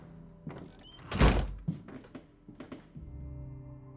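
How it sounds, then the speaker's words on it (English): A door being closed nearby, a heavy thunk followed by a few smaller clunks and rattles, then a low steady hum. "Kid can close the door."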